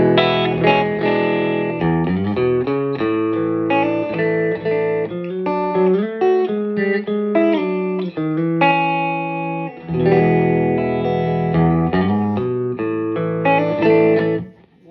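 Electric guitar played through a mid-60s Sano 16-watt tube amp built for accordion, cranked to about 75% volume; steady chords and melodic lines ring out loud and continuous with slight breakup, alone with no talking.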